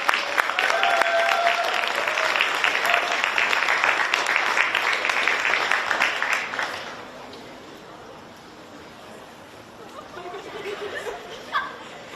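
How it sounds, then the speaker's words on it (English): A crowd claps steadily for several seconds at a women's sports cup final presentation, then the applause fades away, leaving quieter room noise with a few scattered sounds. "Big round of applause, please, ladies and gentlemen"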